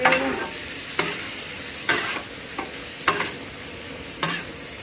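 Cheesesteak filling of meat and vegetables stirred in a pan over the lowest heat, a constant close sizzle punctuated by about five sharp scraping strokes of a utensil at roughly one-second intervals.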